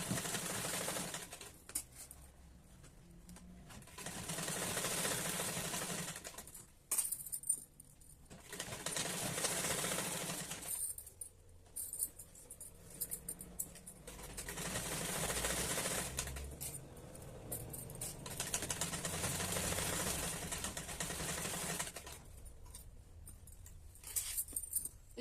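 A sewing machine stitches around a kurti's round neckline in repeated whirring bursts of several seconds each. Short quiet pauses separate the runs, where the fabric is shifted and pins are pulled.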